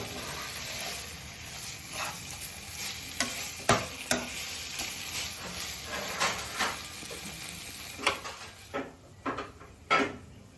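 Manchurian stirred in a frying pan with a spoon, steady sizzling frying underneath and sharp scraping clanks of utensil against the pan, growing more distinct toward the end; no talking.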